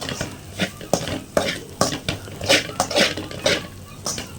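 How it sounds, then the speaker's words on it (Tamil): Small dried anchovies fry in oil in a pan, stirred with a metal spoon, giving repeated scraping, clinking strokes at an even rhythm over a soft, steady sizzle, close up. "நல்லா இப்படி பரட்டிகிட்டே இருக்கணும்"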